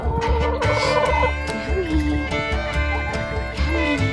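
Chickens clucking and chattering nearby in an overlapping, busy flock, with occasional louder calls and a low background hum.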